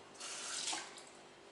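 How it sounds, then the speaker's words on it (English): Running water from a tap rinsing a freshly cleaned small fish, a brief close splashing gush that swells and fades within a second or so, with no voices. "And I'll give it a bit of a wash."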